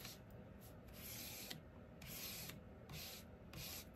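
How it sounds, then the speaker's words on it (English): An ink pad is scraped across a rubber stamp in rhythmic strokes of rough rubbing, with four or five distinct passes, close and fairly quiet, with no talking. "you're gonna take your Memento pad and you're gonna scrape it"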